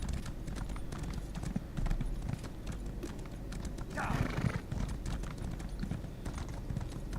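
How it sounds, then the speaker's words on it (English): Rhythmic hooves of a horse in the video game Elder Scrolls Online clip-clop at a gallop, with a brief whinny partway through, under quiet talking. "At least I got a horse."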